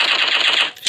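Rapid SCAR rifle fire in a PUBG-style shooter game, a loud close burst of automatic shots for most of a second, then a brief pause and a single sharp report.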